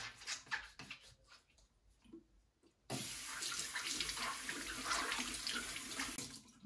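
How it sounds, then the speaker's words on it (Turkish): Plastic brush parts from a Roborock S5 Max robot vacuum are washed under a running tap. A few scattered splashes and handling noises come first, then the water gushes strongly and steadily, close by. "Şu şekilde plastik kısımlarını iyice suyun altında temizleyelim önce."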